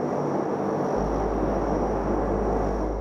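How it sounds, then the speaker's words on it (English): Steady, loud droning rumble from inside an old P-3 military propeller airplane in flight on a NASA snow science mission, continuous and unbroken with no voices. "The military planes are loud and vibrate, and they're cold."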